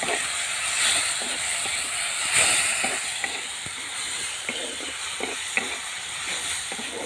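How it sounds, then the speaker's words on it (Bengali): Spice masala sautéing in a pan, loud continuous sizzling and hissing with repeated scraping taps of a spoon as it is stirred, no talking. "মশলাটা ভালো করে কষবো"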